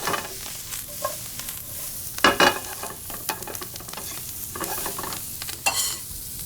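Shallots toast in bacon fat in a pan, crackling and sizzling steadily up close while utensil scrapes and stirs cut in, with a louder burst of clattering midway and another near the end; no voices.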